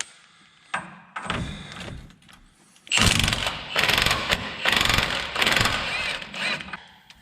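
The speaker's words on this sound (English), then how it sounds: "using your 21 millimeter, going to take the nut off for your drag link that goes to your pitman arm" Ratchet with a 21 mm socket working the drag link nut at the pitman arm on a Dodge Ram steering gear box, heard as loud close bursts of clicking and metallic clatter, with a few earlier knocks.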